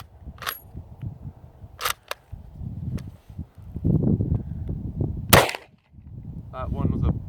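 M48 Mauser rifle fired at an outdoor range: several sharp, cracking shots spaced a few seconds apart, with rustling, handling noise and scattered background sounds between them.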